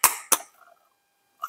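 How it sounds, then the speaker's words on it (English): A screwdriver taps a metal part on a Ford Model T, making two sharp close knocks in quick succession. A faint rattle follows, then a single further tap after a short silence. "Just give this a bit of a tap, I think, with a screwdriver."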